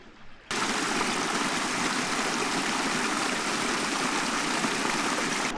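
A loud, steady rush of a waterfall and snowmelt stream beside a trail starts abruptly after a brief quiet moment and then continues unbroken and close.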